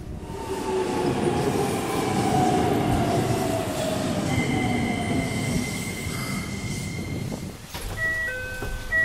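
A train in Yokosuka rolls along with a steady rumble and clatter, wheels squealing in drawn-out tones, followed near the end by a short electronic chime.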